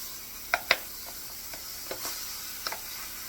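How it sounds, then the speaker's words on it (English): Beans go into a hot skillet, a soft sizzling hiss with a few sharp clinks and scrapes of a utensil against the pan, close and fairly quiet, without talk. "you take your beans and just add it"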